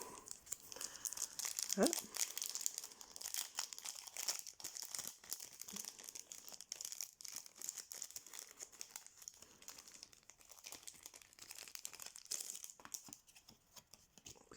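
A Pokémon card booster pack from the Astres Radieux set is torn open and its foil crinkled, with steady close crackling throughout and a voice briefly speaking under it.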